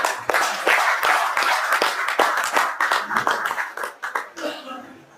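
An audience clapping together at a Hindi business workshop on SME IPOs, a burst of uneven claps that thins out and fades toward the end, with some voices mixed in.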